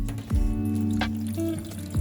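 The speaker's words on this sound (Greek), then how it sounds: "και θα ρίξω νεράκι." Water poured from a vessel over stuffed cabbage rolls layered with pumpkin in a pot, covered by an upturned plate; a steady close liquid pour and trickle runs throughout, with no talking.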